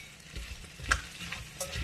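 Potato pieces with turmeric, chilli powder, coriander powder and salt stirred in a pan: a faint soft sizzle with a few light scraping strokes and one sharper clink, close but quiet.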